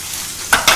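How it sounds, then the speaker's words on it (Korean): Garlic and green onion sizzle in olive oil in a frying pan, with a soft frying hiss and two sharp stirring bursts near the end. "마늘 대파 잘 볶아주고요."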